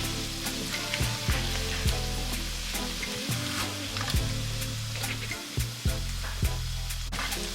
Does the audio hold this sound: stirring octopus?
yes